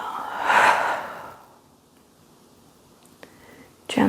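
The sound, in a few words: a deep exhale during yoga breathwork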